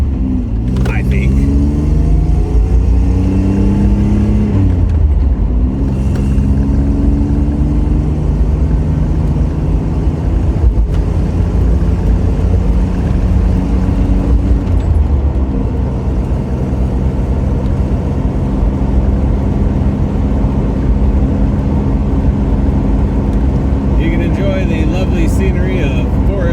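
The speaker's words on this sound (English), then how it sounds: "you will probably hear a bit of an exhaust leak" A 1992 Chevrolet Camaro RS with an exhaust leak, heard from inside while driving, a loud steady engine drone with rising and falling revs, a speaking voice partly buried under the roar.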